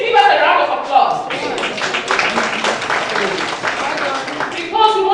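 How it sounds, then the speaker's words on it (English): An audience claps together at the Tooro Peoples Conference, a dense, steady burst of applause lasting several seconds, loud and close, with voices mixed in at the start and end. "Please give us a round of applause."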